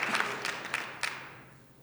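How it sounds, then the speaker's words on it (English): An audience at a policy breakfast gives a round of applause: a short burst of clapping that quickly thins and fades away to near silence, fairly faint overall. "I'd like all of us in here to give a round of applause for that extraordinary"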